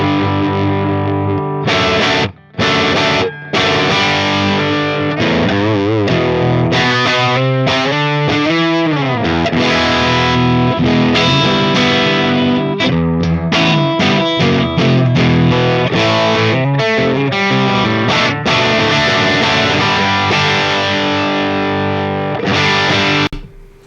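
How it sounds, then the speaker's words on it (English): A Les Paul electric guitar plays through a Vox AC30 amp and Vintage 30 speakers, giving loud, distorted riffs and chords with short stops and ringing sustained notes, no talking. "So this is Les Paul with the vintage 30s."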